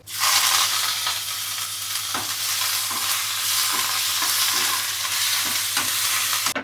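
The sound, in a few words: tempering sizzling: cumin, mustard seeds, crushed garlic, curry leaves in oil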